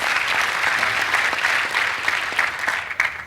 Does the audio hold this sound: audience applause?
yes